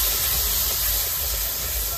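Masala with turmeric, chili powder, coriander powder and salt being sautéed in a pan, a loud, continuous sizzling hiss throughout, with no talking.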